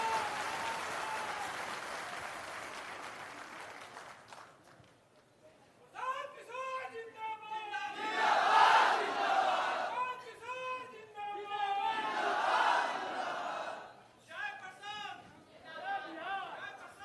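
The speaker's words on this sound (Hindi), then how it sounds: "तालियों की गड़गड़ाहट के साथ" An auditorium audience at Gyan Bhavan in Patna applauds loudly in swelling waves as a guest is welcomed at a political campaign gathering, after a stretch of someone speaking.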